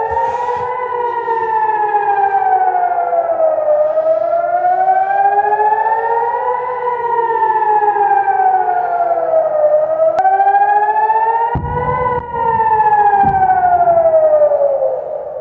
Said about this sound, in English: as you can hear, the sirens are going off here in Herzliya